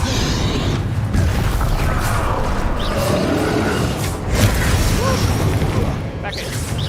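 An explosive spell goes off in the Hogwarts Legacy video game on PS5, a loud rumbling blast with creaking, debris-like crackle that rolls on throughout, thick and close amid busy combat noise.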